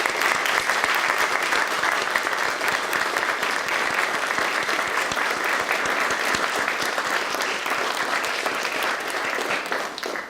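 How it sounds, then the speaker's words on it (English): A large audience applauds inductees at a distinguished alumni induction ceremony, a dense, loud and steady wash of clapping that holds for about ten seconds and then starts to fade. "We'll give them all a great round of applause for their..."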